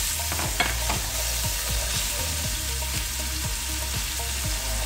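Onion and chili fry in hot oil in a pan, with a steady close sizzle broken by regular scraping stirs throughout.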